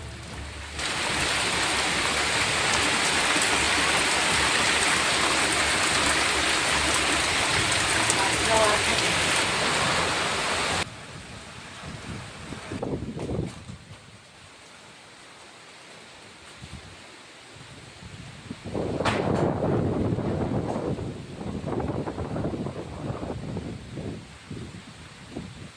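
Stormy rain with wind lashing Lanja in Ratnagiri, where it battered mango and cashew orchards, makes a loud, dense, steady roar for about eleven seconds, then drops away to a quieter background as a voice talks.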